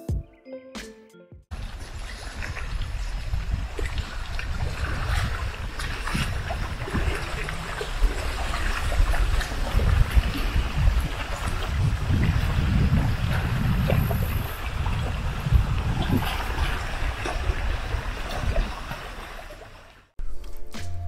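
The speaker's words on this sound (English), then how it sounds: "I'd love listening to the wind and water from this. Let's hear the sounds from Mineral Wells Lake." Wind and water at Mineral Wells Lake in a Texas state park, a steady broad rushing wash of wind with lapping water, loud and continuous for about twenty seconds, with no talk.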